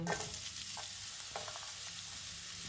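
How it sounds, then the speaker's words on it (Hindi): Steady hiss of onion frying in hot oil with mustard seeds, with occasional stirring scrapes and crackles, close and continuous with no talking. "इनको 30 सेकंड तक भूनेंगे। 1 प्याज डालेंगे"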